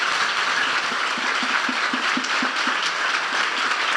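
A church congregation at a Good Friday service applauds, a dense, loud, sustained clapping that fills the whole stretch evenly, with no speech over it.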